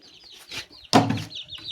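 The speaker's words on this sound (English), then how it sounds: "This is our rooster." A single loud Kienyeji rooster crow bursts out close by in a backyard, preceded and followed by softer clucking and chirping from nearby chickens and chicks.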